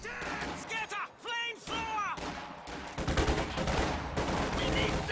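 Company of Heroes 2 battle as Panzer Grenadiers engage riflemen armed with flamethrowers, with rapid gunfire bursts and a dense, roaring wash of combat noise that swells and stays loud through the clip.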